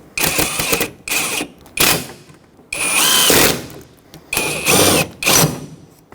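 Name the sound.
power tool snugging down small fasteners on Ford F-350 hood hinge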